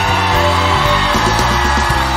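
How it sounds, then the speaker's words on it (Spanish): A live concert crowd in Acapulco, Guerrero, shouts and yells loudly and continuously, mixed with music. "¡Ese grito que suena!"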